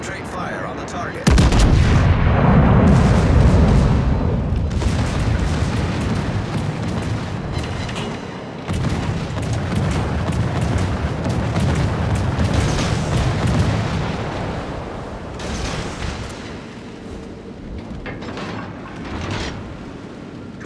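Warship artillery fire in World of Warships, with heavy naval guns booming in a loud, continuous barrage that rumbles and echoes for the whole stretch, dense and close with no clear gaps.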